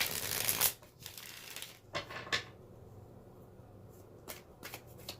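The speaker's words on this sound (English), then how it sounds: "Let's get some other cards out here on the table." Tarot cards are shuffled and laid on a table: a loud riffle of cards at the start, then several crisp slaps and flicks as cards are set down close by.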